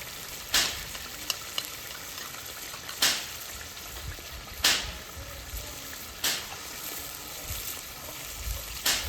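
Cumin, tomato and coriander paste frying in oil over a wood-fired stove, a constant low sizzle broken by five sharp, evenly spaced spoon scrapes, near and without talk.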